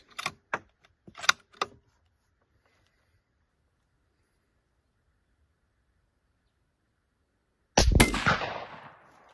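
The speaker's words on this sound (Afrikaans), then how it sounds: "Nog 'n skoot." A few light clicks and taps, a long silence, then a single loud .223 rifle shot at a gong target bursts out and echoes away.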